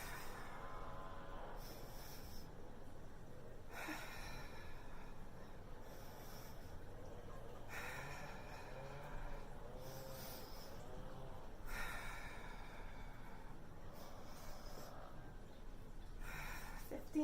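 Rhythmic pumping breaths during a yoga mat exercise, forceful snort-like exhales repeating in steady bursts every couple of seconds over a constant low background, close and moderately loud.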